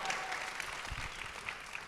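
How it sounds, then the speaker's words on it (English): Faint applause from an audience after a drag and ballroom performance panel at Lincoln Center, a soft steady patter of clapping heard at a distance for a couple of seconds. "Round of applause."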